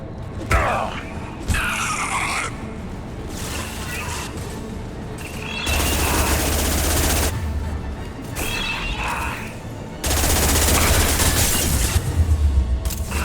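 Gunfire and combat effects in the video game Mass Effect 2 come as loud, sustained bursts with heavy booms and crashing impacts, and game voices speak between them.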